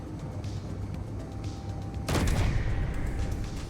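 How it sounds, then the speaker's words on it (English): A sudden burst of gunfire from a weapon in the space survival game Space Engineers cuts in partway through, loud and broadband over a steady droning ambience, then rings out in a dense roar. "I didn't mean to shoot that."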